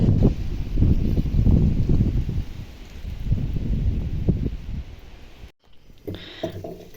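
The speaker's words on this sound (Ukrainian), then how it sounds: "Ох, і жарко біля цього, да ще вітер дує." Low, gusty wind rumbles and buffets close by outdoors beside a barbecue grill for several seconds, then cuts out briefly before a faint rustle returns.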